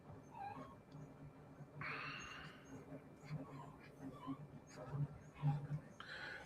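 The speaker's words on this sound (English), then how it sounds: "Complainingest little doggy I ever seen in my life" A small dog whines and whimpers in thin, high bursts with a few yips, fairly faint and broken by pauses, while people talk over it.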